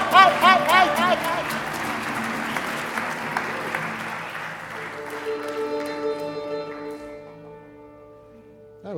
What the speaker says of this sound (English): That was a heck of a way to get applause, I must say.